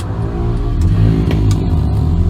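A Honda VTEC car's exhaust rumbles at the rear while driving at night, a loud, steady low drone heard from inside the cabin with a slight swell in the middle.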